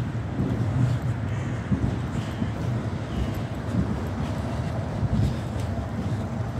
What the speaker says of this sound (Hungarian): fölöttem megy a vonat éppen